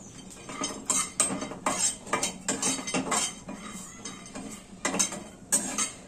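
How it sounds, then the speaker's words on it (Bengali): Cashew nuts being lightly fried and stirred in a pan for mung dal puli, giving repeated metallic scraping and clinking of a spoon against the pan in irregular bursts, close and fairly loud with no talking. "কাজু বাদামটা আমি একটু নাড়িয়ে নেব।"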